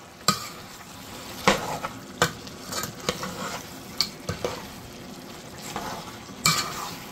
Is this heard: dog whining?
no